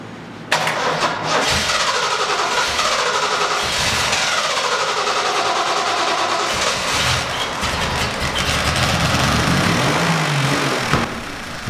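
A 1970 Triumph TR6 engine cranks and catches on its first start after evaluation work with fuel poured into each carb, then runs loud and close for about ten seconds before cutting off abruptly.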